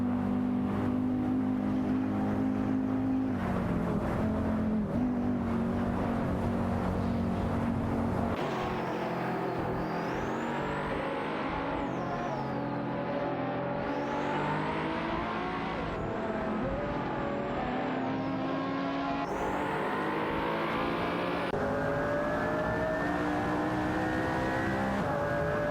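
Race car engines in a racing video game, a Ferrari among the field, loud sustained revving with rising and falling pitch as gears shift and cars pass, constant throughout with no talk.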